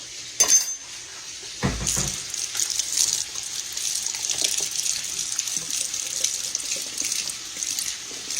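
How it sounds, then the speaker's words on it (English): A tomato is washed under a running kitchen tap, a steady close hiss of water splashing into the sink with a few light clinks at the start, with no voices over the flow. "let's go over here now and wash our tomato good"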